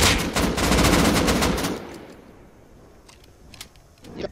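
Rapid bursts of gunfire from the Rust video game crackle loudly in the first second and a half, then fade to a few scattered, quieter shots and clicks.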